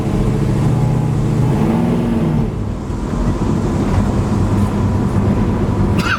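A 1970 Chevrolet Nova SS with a 500 hp Blueprint crate motor and 12-bolt posi rear end drives along. Its steady, loud, close engine drone rumbles with a brief dip partway, then keeps on continuously.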